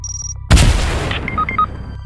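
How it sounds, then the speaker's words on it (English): A clinger grenade explosion from Lego Fortnite stop-motion: a sudden loud boom after a quiet start, followed by a decaying rumble and a few short high beeping tones. "He throws that clinger grenade that he saved from earlier at them"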